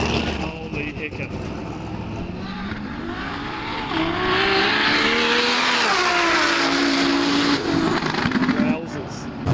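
A BEAST35 GTR races a PTO Lamborghini with loud, continuous engine roar and revs climbing in pitch, plus hints of tire squeal. A voice may be present under the noise.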